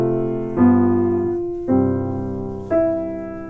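A chord progression ending on a non-chord tone over C: three sustained chords struck one after another at a steady pace, each ringing and fading before the next, loud and close with no talking.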